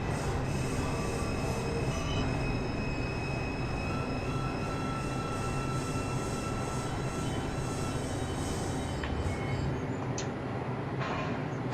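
Simulated New York IRT subway train on the 3 line in Roblox, a continuous loud rumble of running rails with high-pitched wheel squeal throughout, steady and unbroken.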